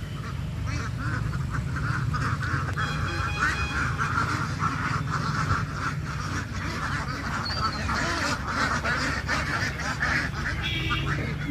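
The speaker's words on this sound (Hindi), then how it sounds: "ये सामने इतने सारे बत्तख," Many ducks quacking continuously alongside country chickens at a rural roadside spot, a loud dense chorus of overlapping quacks and honks close by, with some voices faintly underneath.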